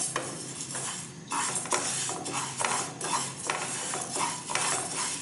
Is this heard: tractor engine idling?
no